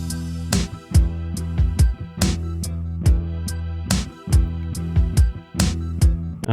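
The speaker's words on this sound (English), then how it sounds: "The arpeggio is going through the Podolsky synth" A psybient synth arpeggio from the Podolsky synth plugin pulses in rapid repeating notes over a heavy bass, punctuated by sharp drum hits in a steady dance groove.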